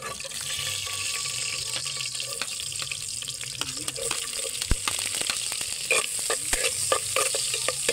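Vegetables sauté in a hot pan, with a steady close sizzle and occasional stirring clatters and scrapes of a utensil over the full length, no talk.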